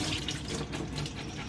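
Tap water runs and splashes briefly, a soft steady stream with faint spattering, as cashews are rinsed under it.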